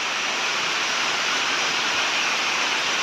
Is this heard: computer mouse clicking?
no